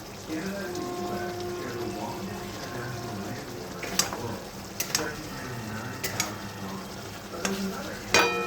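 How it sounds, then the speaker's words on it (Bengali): A metal spatula chops and mashes boiled eggs in frying masala of onion, sesame and mustard, giving irregular scraping stirs with sharp clinks against the pan over a steady low sizzle; a voice talks in the background. "আমি খুন্তি দিয়েই এগুলো কুটে দেবো"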